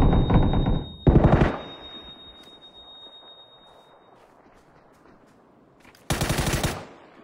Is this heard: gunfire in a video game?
yes